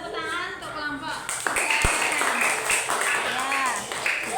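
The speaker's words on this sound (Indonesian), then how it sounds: "Ayo silakan berikan tepuk tangan untuk kelompok" Classmates applaud a presenting group in a school lesson, a steady wash of clapping that builds after a teacher's voice and continues under scattered talking.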